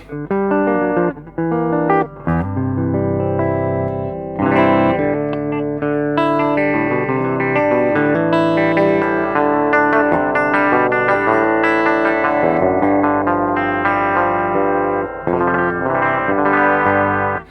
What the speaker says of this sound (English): It's just this really pleasant mid-range harmonic distortion going on.